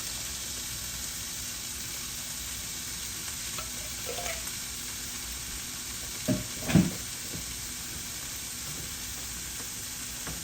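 Fire-roasted tomatoes cooking on high heat in a pan give a steady, faint hiss, broken by a few brief clinks and stirring scrapes near the end.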